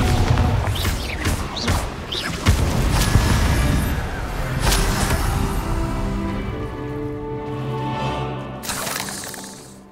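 The Bombarda blasting spell going off in the game Hogwarts Legacy, a heavy booming explosion with shattering debris crashing over a busy battle soundscape, then settling into a fading rumble.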